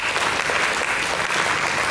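A church congregation applauds during a sermon, a continuous, fairly loud burst of many people clapping with no pauses.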